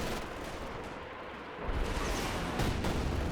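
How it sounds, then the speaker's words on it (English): A Panzerwerfer rocket artillery barrage in the strategy game Company of Heroes 2, a steady roar of distant firing that swells into heavier, louder rumbling impacts partway through, with no voices. "Just save the Panzerwerfer for another higher priority barrage."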